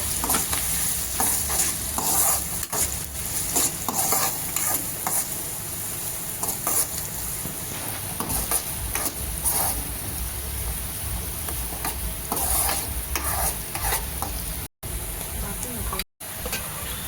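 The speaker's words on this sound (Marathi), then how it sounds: "कांदा मस्तपैकी भाजून" Onion sizzles steadily in a hot pan while a utensil scrapes and stirs it, loud and continuous with a couple of brief dropouts.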